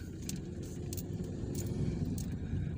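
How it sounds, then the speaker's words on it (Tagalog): A motorcycle climbs a ramp in an open steel parking structure, a steady low engine drone mixed with vehicle rumble, moderately near and continuous, with faint scattered clicks on top. "Ayan, may paakyat na motor."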